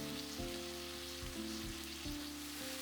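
Pork pieces sear in a pan over high heat while making ginger pork, giving a steady, soft sizzle with faint crackle, close and continuous, under a low background hum and no talking.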